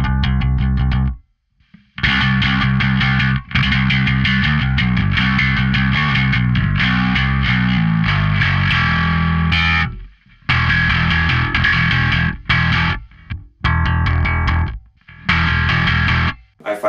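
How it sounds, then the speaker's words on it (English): Heavily distorted electric guitar through a distortion drive pedal playing chords and riffs, loud and saturated, with a few brief pauses between phrases. "this is my main distorted sound"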